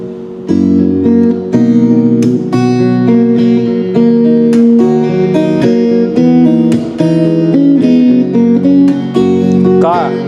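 An acoustic guitar through a saved effects preset, with processed, polished tone, plays a flowing melodic line with chords, close and steady, ending on a quick bend.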